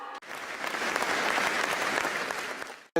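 A crowd at a film awards gala applauds steadily for about three seconds, dense clapping that holds even and loud, then cuts off abruptly.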